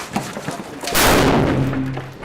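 A blank round fires with a loud close thump followed by a long rumbling echo across an outdoor milsim airsoft field, with a few softer knocks before it.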